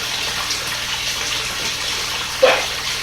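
Water from a fully opened pond pump rushing through filter media sitting in a backyard pond: a steady, broadband splashing gush, close and continuous, with a brief louder splash near the end.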